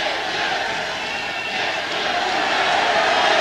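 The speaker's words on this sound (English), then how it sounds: "You might hear a chant that the crowd set up from time to time, and they're calling out Allez le Bleu" A vocal rugby crowd at the 1982 France v Australia first test fills the stands with a steady, continuous roar, the sound of massed supporters chanting Allez les Bleus rising slightly toward the end.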